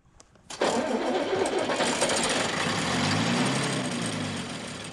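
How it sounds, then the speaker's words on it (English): A bus engine in a film cranks and catches, then settles into a loud, steady mechanical roar that holds for several seconds before easing slightly. "see if you can start the engine"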